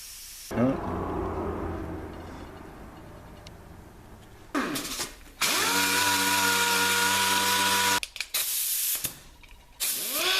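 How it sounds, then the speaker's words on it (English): A multi-function oscillating tool cuts in tight quarters during radiator core support work on a Chevy Astro/GMC Safari van, giving loud, steady buzzing bursts that start and stop several times. "there you can see the multi-function oscillating tool in those tight quarters doing what it does best"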